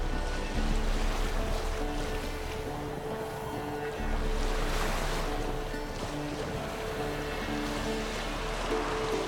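Small boat crossing a fog-covered lake in The Witcher 3, with a continuous soft wash of water and lapping waves under a low steady rumble, no talking.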